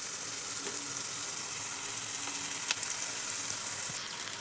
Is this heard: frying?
yes